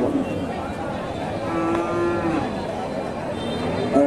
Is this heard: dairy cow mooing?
yes